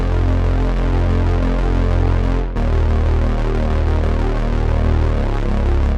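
A dense, buzzing synthesizer tone pulses rapidly and steadily, fuzzy and blurred, with a brief dropout partway through before continuing.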